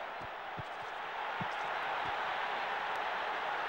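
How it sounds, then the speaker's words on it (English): Crowd noise from the football video game ISS 98, Germany versus Scotland: a steady, dense stadium roar with faint scattered claps and thumps, swelling slightly midway and holding loud to the end, with no talk over it. "The crowd aren't happy with that one."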